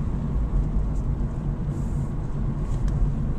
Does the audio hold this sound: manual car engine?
yes